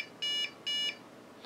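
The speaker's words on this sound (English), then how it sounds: "We had 5 beeps, which was when I removed the CMOS battery." A Dell office PC with its CMOS battery removed sounds a POST error code: two clear, high-pitched electronic beeps of equal length in a quiet room, evenly spaced, with the sequence cut short.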